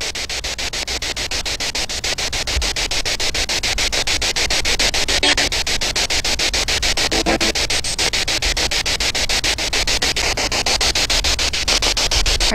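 Spirit box radio static crackles in a graveyard, a steady hiss with rapid rhythmic sweeping clicks and buzzing hum, loud and continuous throughout with no voices.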